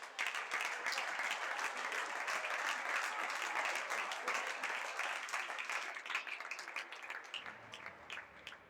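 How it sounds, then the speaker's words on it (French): Applause for the supervisors at a padel tournament: a large crowd claps steadily and densely for several seconds, then thins out and fades near the end. "Des applaudissements pour eux."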